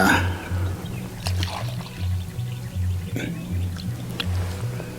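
Liquid is poured into the drain of an old, worn water heater, giving a steady trickling pour beneath a low humming drone, with someone speaking quietly over it.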